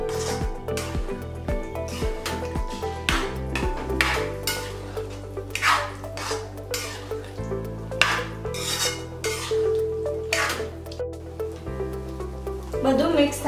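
A spoon stirs chickpeas into simmering chole masala gravy in a metal pan, with repeated scraping and clinking strokes against the pan and soft bubbling underneath.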